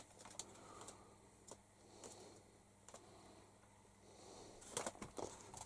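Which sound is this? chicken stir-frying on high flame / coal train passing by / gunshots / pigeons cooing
pigeons cooing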